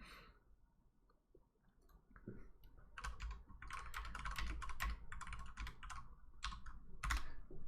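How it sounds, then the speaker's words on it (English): A computer keyboard typed on steadily, soft sparse taps at first building into dense, close bursts of clicking keystrokes with short gaps, in an online game broadcast setting with no one speaking. "You hear me typing too."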